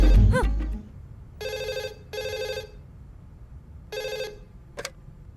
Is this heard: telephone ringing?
yes